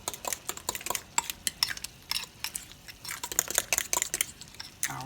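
Spoon scraping and clinking against a bowl while stirring lasagna filling seasoned with black pepper, a quick irregular series of close, light taps and scrapes, no talk.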